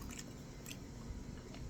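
Close, soft, continuous squishy chewing and biting on pork tail sinigang, a Filipino sour soup, with moist mouth sounds and no talking.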